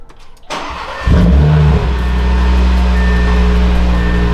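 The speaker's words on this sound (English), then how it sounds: "let's go ahead and fire this thing up" An Audi RS3 fitted with new mid pipes starts up close by: a starter whir, then the engine catches with a sharp flare and settles into a steady, loud, rumbling idle.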